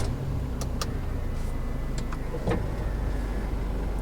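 Car engine running as a continuous low rumble that stays steady throughout, with a few faint clicks and knocks on top and no talking.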